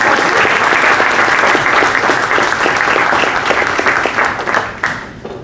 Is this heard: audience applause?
yes